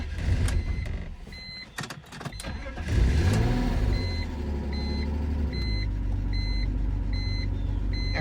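A car with a fuel leak cranks through several uneven bursts, catches and settles into a steady idle, with a regular repeating beep chiming over the running engine.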